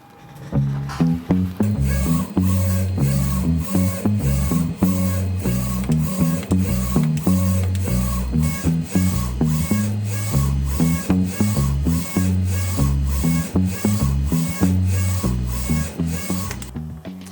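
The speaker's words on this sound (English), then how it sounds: "Now we're going to head on over to DTF Station Pilot, and we're going to print this thing." DTF printer running a graphic print job, with a steady, loud mechanical whir and rhythmic repeated clicks and thumps as the print head shuttles back and forth, heard alone without talk.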